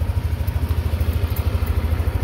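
A registered motorcycle engine idles steadily at a vehicle inspection facility during a sound level test, a loud, even low throb that keeps up its rapid pulsing throughout.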